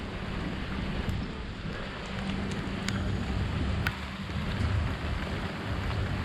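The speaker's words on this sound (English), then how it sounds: "It's still raining a little bit" Light rain falling on a beach in Koh Samui, Thailand, beside docked boats, a steady close hiss of drops with faint scattered taps and a low ambient rumble underneath.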